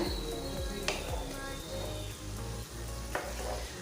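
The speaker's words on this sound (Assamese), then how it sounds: "এইখিনি এতিয়া অকমান লৰাই দিব হ'ল" A khar dish frying in a pan as it is stirred, a continuous soft sizzle with occasional scraping strokes and a couple of sharper clinks, fairly quiet and close.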